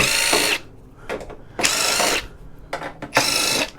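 A power drill backs screws out of a cover on a workbench, with several loud whirring bursts of about half a second each, separated by short pauses and clicks.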